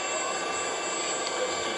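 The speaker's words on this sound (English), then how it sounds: "Right now we're running the spindle. Again, it's an inverter drive through the control." The spindle of a 2007 Southwest Industries DPM SX3 CNC vertical mill spins at 1,000 RPM on an inverter drive, giving a continuous, even whirring hum with a steady high whine, close and unbroken.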